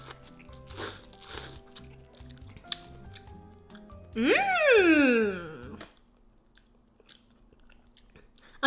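Vermicelli noodles from a self-heating Haidilao hot pot are chewed close to the mic with soft, wet bites and slurps, broken by a long drawn-out hummed murmur of approval.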